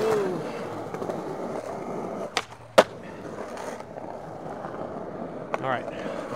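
Skateboard wheels roll and carve steadily around transition with a continuous gritty rumble, then a couple of sharp clacks from the board, heard up close.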